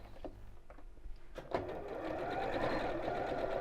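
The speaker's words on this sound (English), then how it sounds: "I'm just going to sew over a couple of times" Sewing machine stitching a seam on a child's drawstring backpack, starting with a few separate clicks and thumps, then settling into a steady, close, continuous whirring run.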